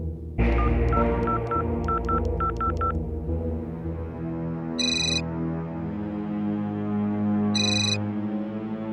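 A telephone sounds loudly nearby with a run of quick electronic tones followed by two short ringing bursts a few seconds apart, over a sustained musical background.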